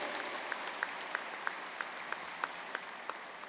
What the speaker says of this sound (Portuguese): vou dar uma salva de palmas a Deus